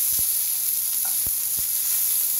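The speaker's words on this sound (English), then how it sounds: "I just saute the other side. I'll sear the other side." Wagyu beef sears in a pan on residual heat with the flame already off, giving a constant, close, loud sizzling hiss with a few soft knocks and clicks, and no voices.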